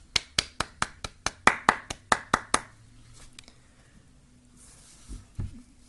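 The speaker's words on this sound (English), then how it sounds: "Applause for them." A single pair of hands claps about a dozen times in a quick, even rhythm, sharp and close, then stops, leaving near silence broken by a couple of faint soft knocks.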